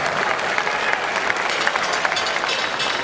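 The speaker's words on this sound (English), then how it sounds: "a big round of applause to both fighters for a fantastic contest" Boxing crowd at a light middleweight title bout applauding both fighters after the contest, loud sustained clapping with scattered cheers and crowd noise.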